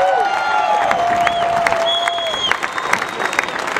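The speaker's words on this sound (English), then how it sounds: "Let's give Staff Sergeant Price a nice round of applause." Crowd at a Buffalo Bills event applauding and cheering for an Army staff sergeant, a broad, steady roar of clapping with whistles and shouts rising above it.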